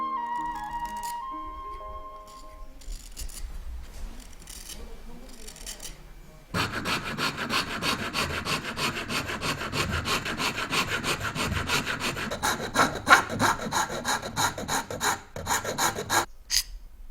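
A zelkova wood board is cut through with a hand saw in steady, rasping strokes, loud and close, running continuously for about ten seconds after quieter rubbing and handling at the start.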